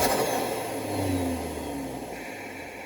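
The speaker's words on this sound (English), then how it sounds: "The turbo sounds, it's really, really cool." Saab 9-3 V6 turbo car on the road, with a steady engine drone and rising, falling whine as the boost builds and eases over a few seconds; no talking.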